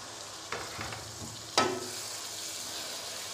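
Chopped tomatoes frying in oil with ginger garlic paste for masala bhindi, a steady soft sizzle with a couple of stirring scrapes and one sharp clatter midway.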